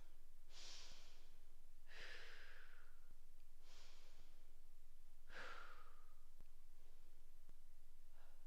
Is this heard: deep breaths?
yes